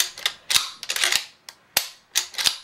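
A shotgun being dry-fired and pumped during disassembly and reassembly, giving a series of sharp mechanical clicks and clacks in irregular bursts, close and loud, with no talking.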